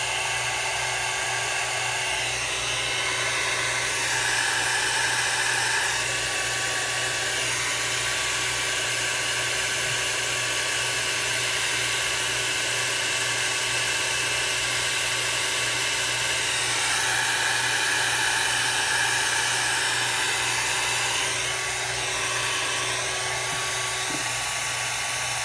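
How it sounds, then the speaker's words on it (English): Hair dryer running continuously while drying alcohol ink, a steady loud whirring hum with a slight shift in pitch at moments, alone without talk for the whole stretch. "you tend to leave your dryer on quite a bit"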